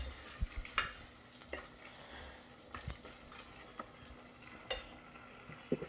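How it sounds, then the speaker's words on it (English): Tomato, onion, ginger and garlic stirred in a pan, with quiet frying under soft intermittent spoon scrapes and taps, faint and close. "So we are going to add our ginger and garlic into it. We give it a bit stir."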